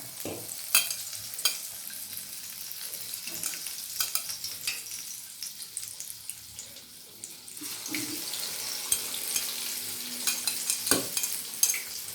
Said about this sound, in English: After dipping, we will put it in the oil in the pan.